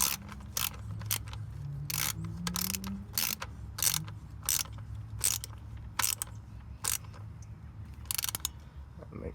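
A socket ratchet with a 10mm hex bit and short extension tightens the transfer case fill plug on a Jeep Wrangler, giving a long series of sharp, close clicks in uneven bursts as the handle swings back and forth.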